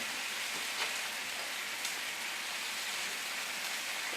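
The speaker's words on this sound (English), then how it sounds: "we're going to add our asparagus to the pan. Give that a saute." Asparagus sautéing in a hot pan gives a steady, soft, even sizzle with a faint spattering texture and no voices.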